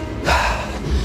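A forceful breathy exhale during a hip-raise exercise in a lower-body and core workout, one loud close rush of air lasting about a second.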